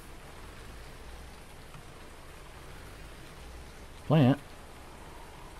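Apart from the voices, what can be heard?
rain in the video game Farming Simulator 19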